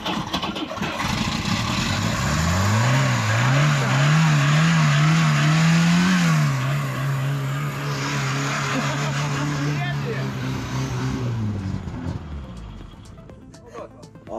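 An old car's engine runs steadily just after starting, a loud, close, buzzing drone that rises in pitch, wavers, then settles before fading near the end.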